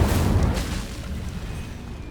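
A fiery Incendio spell blast in Hogwarts Legacy, a loud booming burst that opens strongly and then fades into a rumbling roar over a couple of seconds, with no talking.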